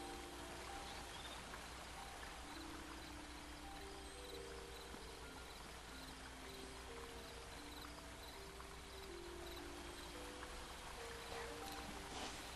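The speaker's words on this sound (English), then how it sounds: "we have a massive waterfall as we go back into the normal forest area over here" A massive waterfall in a forest area of the Second Life video game, a steady dense rushing roar that stays constant throughout, with faint tonal game music underneath.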